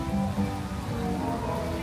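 Heavy rain falls at Disneyland in a steady, dense hiss of drops striking surfaces, continuous and fairly loud across the short stretch with no break.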